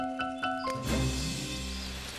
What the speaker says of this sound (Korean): 한여름의 소나기.